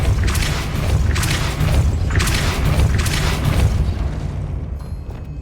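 In the video game Hogwarts Legacy, a Depulso spell hits with repeated deep booming impacts, each a loud burst over a low rumble, about four in quick succession before the sound tails off.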